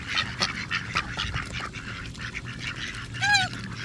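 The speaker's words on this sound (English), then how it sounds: "I love these mallards." Mallard ducks being fed by hand in an outdoor park setting, giving repeated quacks and honking calls at moderate distance, with one louder, sharply pitched call near the end.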